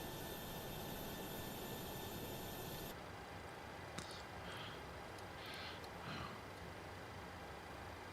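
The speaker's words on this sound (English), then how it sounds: "We're going to be taxiing down this way." Boeing 737 BBJ private jet taxiing, a constant broad engine roar with a high whine that drops away partway through, leaving a steady rumbling hiss with faint brief tones, distant-sounding and unbroken.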